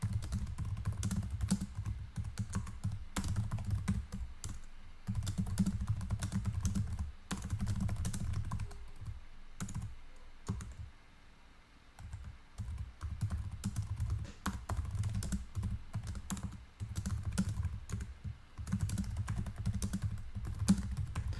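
Rapid typing on a computer keyboard, with dense bursts of clicking keys broken by short pauses, close and clear with no talking.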